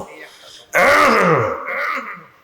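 A man clears his throat once, loud and close, a rough guttural rasp of about a second that tails off into a softer vocal hum, the sound used to signal the imam in a mosque.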